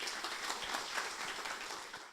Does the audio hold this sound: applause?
yes